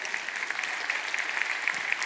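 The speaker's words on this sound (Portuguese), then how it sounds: "vamos aplaudir ao Senhor" A church congregation applauds steadily, a dense wash of many hands clapping together at even loudness, with no voices over it.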